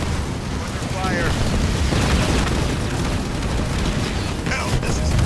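Explosions as an enemy structure is demolished in the Halo Wars video game, a dense continuous roar of booms and rumble with game voice callouts layered on top.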